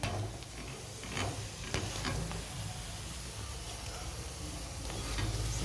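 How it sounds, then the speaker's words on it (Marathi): Lachha paratha made from wheat flour shallow-frying in oil on a pan, a steady soft sizzle and crackle with faint ticking clicks, continuous and close throughout. "असा पलटून पलटून तुम्हाला शेकून घ्यायचा आहे"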